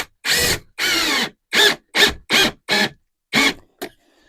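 A power drill drives 1 3/4-inch flathead screws into the flange of a shower pan. It runs in about eight short whirring bursts separated by brief pauses, close by and without talk.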